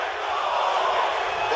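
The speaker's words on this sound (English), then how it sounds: "Vegas crowd getting behind Covington." Las Vegas fight crowd cheering for Covington during a UFC bout against Usman, a dense roar of shouting and whooping voices that swells steadily.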